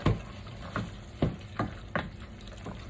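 Pasta tossed with sauce in a pan for penne alla Norma, giving a steady low sizzle with several soft stirring scrapes spaced about half a second apart, close by and with no talking.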